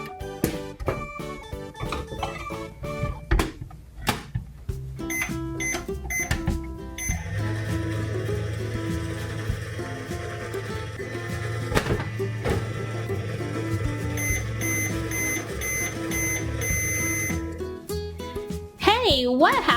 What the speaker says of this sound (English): Now let's put Bear's treat into the microwave.